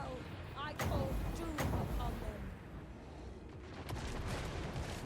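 Gunfire booms in a Total War Warhammer 3 battle, with a few sharp cracks and rumbling blasts over a dense backdrop of battle noise.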